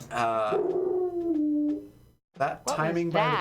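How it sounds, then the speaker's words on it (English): A neighbour's dog howls in a long wavering cry, close and loud, then falls silent before people start talking over one another. "That's the neighbor's dog."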